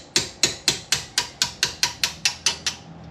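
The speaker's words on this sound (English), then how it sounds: "I use a nice flat round punch. It fits good on the end of the pin, and a little hammer" A small hammer taps a flat round punch against a brake caliper pin during a brake job on a Mercedes CL55 AMG, about a dozen sharp metallic knocks in an even, quick rhythm, close and clear with no talking.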